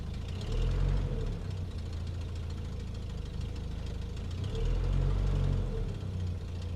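A 1950s Standard Vanguard Phase 2 idles on a little choke, a close, steady low chug with a slight knocking rhythm and two gentle swells in revs.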